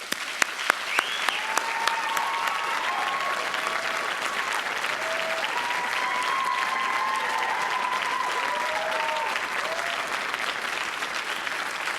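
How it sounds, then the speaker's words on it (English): Graduates applaud at a college commencement ceremony, sustained clapping from a large crowd over steady background, with a few sharp claps at the start and faint musical tones running underneath throughout. "Graduates, please take a minute to applaud the faculty, staff, and your fellow students who have helped you get this far."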